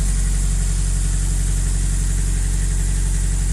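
A 1999 Nissan Avenir GT4-Z with an SR20 engine idles after a cold start, a steady, even, loud low hum held close throughout with no voices.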